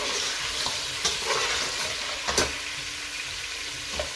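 Lamb meat sizzles as it fries in a pan, a loud, steady crackling hiss broken by a few sharp stirring clatters.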